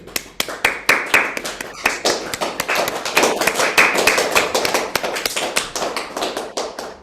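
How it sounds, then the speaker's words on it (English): An audience gives warm, sustained applause after a Chopin piano piece, dense rapid hand claps filling the room steadily for several seconds with no talk over them. "Do we want to give Ailsa unmuted applause?"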